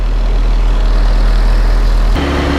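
A Willys CJ2A's L134 four-cylinder engine running steadily, a loud close low-pitched idle with even pulsing rumble that shifts character abruptly near the end.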